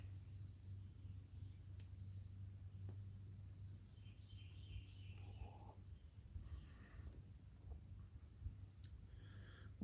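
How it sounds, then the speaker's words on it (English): Crickets and frogs chirping at night outdoors, a faint steady insect drone with scattered soft chirps and croaks in the distance, no talking. "like the sound of the crickets and the frogs?"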